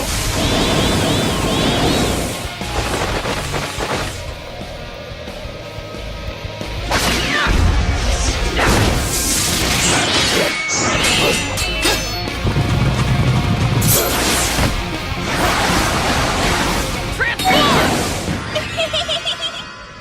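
An energy-blade attack crashes loudly in an animated anime battle, a dense barrage of whooshes, smashes, bursts and impacts that stays loud throughout, with sharp hits standing out near the middle and toward the end.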